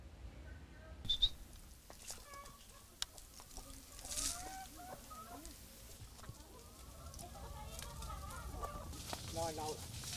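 Free-range hens on an organic farm cluck and chatter steadily, close and moderately loud, with a rooster crowing in the mix and some faint talk in the background.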